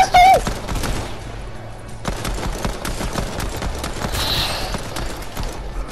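Pistol fire in a video game: rapid, loud, close shots crack one after another almost without a break, over a steady bed of game noise.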